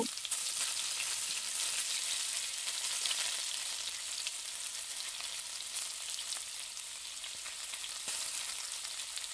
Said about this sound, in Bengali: এই মাছ ভাজা তেল রয়েছে, এই তেলে আমি আলু কটা ভাজি নেব